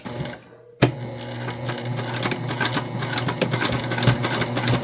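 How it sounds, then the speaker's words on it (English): A sewing machine stitches fabric for a hair tool bag, starting abruptly after a moment of quiet and then running steadily and close with a fast, even mechanical chatter. "Let's go ahead, sew this on now."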